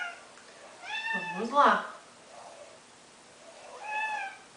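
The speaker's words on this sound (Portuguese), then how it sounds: "tem um gatinho que está passando por aqui" A curious kitten wanders through a home classroom and gives a few close, clear meows. Someone speaks Portuguese over and between the meows.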